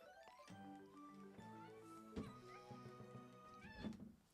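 A cat meows in a quiet room, a few short, mid-pitched calls over soft background sounds.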